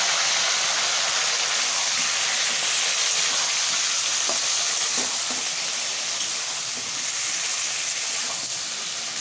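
Onion, green chili and ginger-garlic paste fry with potatoes in a hot pan, giving a loud, steady hiss and sizzle close up, with a few faint stirring knocks and no talking.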